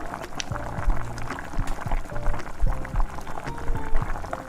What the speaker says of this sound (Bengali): তারপর জল দিয়ে এইভাবে ফুটিয়ে নিতে হবে।